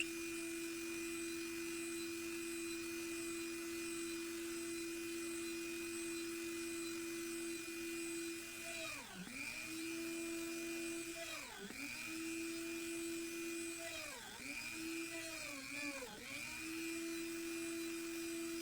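A drill press bores a series of holes through a leather sheath for a Lander 4 knife: a steady motor hum runs throughout, with several downward-sweeping bursts as the bit cuts through the leather, each followed by a return to the even whine.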